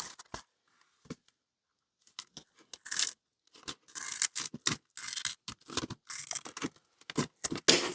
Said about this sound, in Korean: 긴 부분은 조금 잘라주면